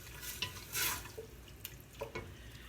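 A spoon stirs diced tomatoes around in a pan, giving quiet wet scraping and clinking strokes in a few short bursts, close and faint.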